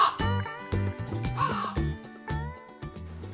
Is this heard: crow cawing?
yes